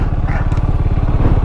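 Motorcycle engine rumbling steadily and close at the Burapa Bike Week 2025 event, a loud continuous low throb with pulsing exhaust beats as the bike rides in, with faint voices mixed in.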